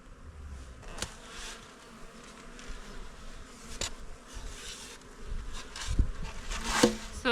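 Honey bees buzz in a continuous close hum around a nucleus hive feeder crammed with bees, with occasional louder individual flybys.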